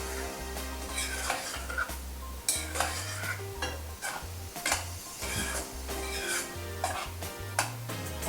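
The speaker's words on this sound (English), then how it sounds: "You just keep moving your spoon until you feel that yogurt is melt down in the" Spoon moving steadily through palak paneer gravy as yogurt is stirred in, with soft scraping and clinking against the pan repeating in an irregular rhythm, close and fairly quiet, with no talking.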